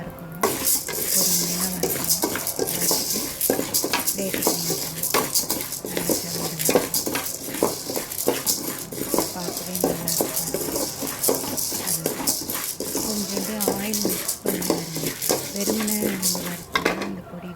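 Chana dal and dried chillies roasting over a slow flame for idli podi, with steady metallic scraping and clinks of a spoon stirring in the pan and a soft sizzle beneath, continuous and close.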